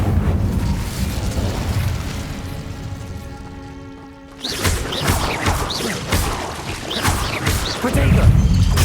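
A fire spell, Incendio, cast in the Hogwarts Legacy game, bursting out as a loud whooshing blast after a sustained humming charge, followed by crackling impacts and rumble.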